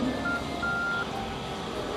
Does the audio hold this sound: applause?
no